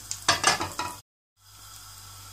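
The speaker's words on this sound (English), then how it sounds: "I'm just throwing in cumin seeds. You know, just allow them to splutter." Cumin seeds spluttering in hot oil for lentil soup, a burst of crackling pops up close, then a brief silence before a softer steady sizzle continues.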